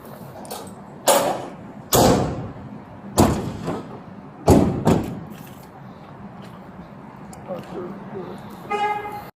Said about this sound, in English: He's gonna shut the door.